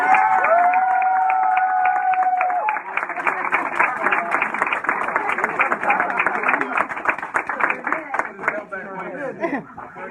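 Applause and cheering rise from a crowd at a campaign event, a steady dense wash of clapping with voices mixed in that carries through the whole stretch, loud and close, with some talk heard alongside.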